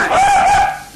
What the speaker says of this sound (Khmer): ឆ្កែព្រុសវាមិនខាំ